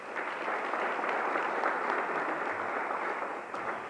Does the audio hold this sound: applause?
yes